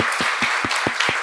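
Church congregation at a children's worship service clapping, with about six distinct claps in a loose, steady rhythm over a hiss of room noise, close and fairly loud.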